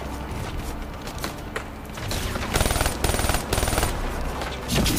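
Rapid automatic gunfire in Call of Duty: Black Ops 3, bursts of close machine-gun fire in quick rattling volleys over a busy battle background, growing louder and denser toward the end.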